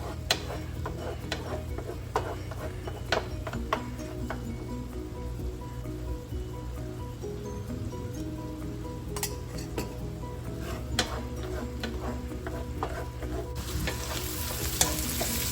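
Egg and vegetables, seasoned with salt and pepper, fry in a pan for chicken sausage fried rice, a constant loud sizzle with repeated spatula scrapes and clacks against the pan throughout, no one talking.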